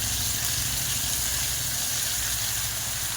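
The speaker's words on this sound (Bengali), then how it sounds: "কিছুক্ষণ দরমারা করে ভেজে নেব।" Hilsa fish and eggplant frying in hot oil, a steady loud sizzle with a constant hiss and no pauses, close to the pan.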